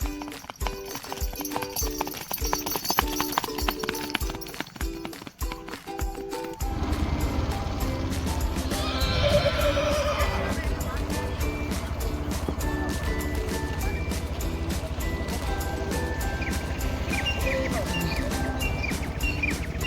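Rhythmic clip-clop of a horse's and a mare's hooves runs steadily through most of the clip, with a brief whinny midway and some outdoor background noise.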